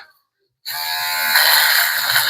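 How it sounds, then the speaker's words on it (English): Electric foil shaver from a beard trimmer kit switching on after a brief silence, then a steady close, loud high-pitched buzz that holds continuously to the end. "I'm going to use a foil shaver right here"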